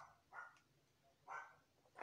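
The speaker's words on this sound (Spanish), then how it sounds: "¿por qué está ladrando tanto?" A small dog barks three times in short, spaced bursts, fairly faint and a little distant, with no talk over it.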